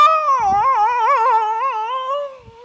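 A dog howls in one long, wavering, tonal cry that rises and falls, loud and close, with a faint yip near the end.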